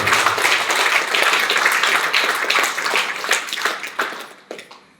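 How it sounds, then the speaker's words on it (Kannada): An audience at a product presentation breaks into loud, dense clapping that fills the room, then thins out and fades to a few scattered claps at the end. "ಇಷ್ಟ ಆದರೆ ಒಂದು ಜೋರಾದ ಚಪ್ಪಾಳೆ."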